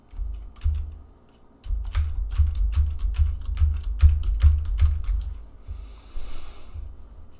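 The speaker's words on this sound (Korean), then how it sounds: "서열을 타자합니다." Keys clatter on a computer keyboard in quick irregular bursts of sharp close clicks while a textile weave pattern is entered, with a brief soft rustle near the end and no talk.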